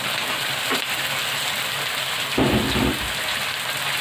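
Chicken is frying with onions in a pan, making a loud, steady hiss of sizzling oil with a brief surge of crackling partway through and no voices.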